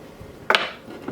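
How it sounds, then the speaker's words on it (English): An egg cracked against a dish at breakfast time gives one sharp, close tap with a brief clink, followed by a faint softer knock. "So just crack your egg actually into another dish first to make sure it's good"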